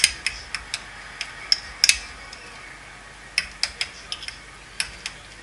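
A drink is stirred after raspberry flavoring is added. A spoon clinks and ticks against the cup in a quick irregular series of sharp, close taps, with short pauses between them and no speech.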